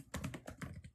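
Quick keystrokes on a computer keyboard, a rapid run of about seven close, crisp clicks in an uneven rhythm, with no voices.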